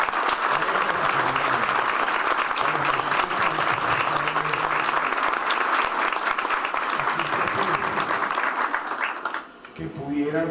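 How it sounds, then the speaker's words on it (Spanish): A crowd at a graduation ceremony claps in sustained, dense applause for several seconds before it tapers off quickly, followed by a voice starting to speak. "Eso merece para mí un gran aplauso."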